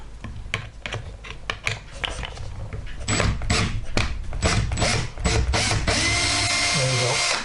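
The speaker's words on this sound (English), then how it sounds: "the drill would have made quite a bit of noise" A power drill spins anticlockwise to loosen a stubborn part on a set of GHD hair straighteners, whirring and rattling in short bursts before settling into a steadier, louder run near the end, close and harsh.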